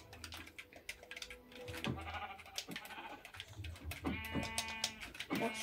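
Minecraft sheep bleat several times in short, wavering cries, mixed with sharp keyboard and mouse clicks and other scattered game sounds at a low overall level.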